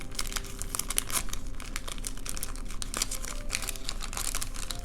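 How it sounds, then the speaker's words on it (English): Plastic packaging crinkling continuously as a parcel of keyboard keycaps is unwrapped, dense rustling and crackling close up with no talking. "Sorry for the crinkling"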